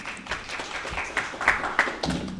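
Audience applause at a 2021 graduation ceremony, a scattered spread of hand claps with a few sharper claps standing out, moderately loud and steady for a couple of seconds.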